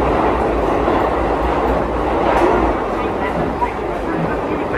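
A train rumbles at Oshiage station in Tokyo, with a loud, continuous rolling roar and faint clatter from the railcars.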